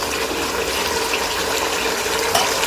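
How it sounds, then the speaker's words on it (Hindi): Half a cup of water pours steadily and continuously into a pot of kaleji (liver) masala, a full splashing gush from start to finish with no voices. "हाफ कप पानी डालेंगे।"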